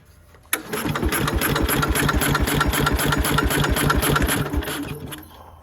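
A Bolens 1250 garden tractor engine cranks and catches abruptly, then runs with a rapid, steady chugging rumble close by before slowing toward the end.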